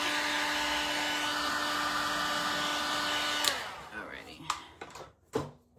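A hair dryer blows a steady, loud whine while drying Mod Podge on a thrifted frame, then cuts off abruptly partway through, followed by a few light knocks and handling sounds.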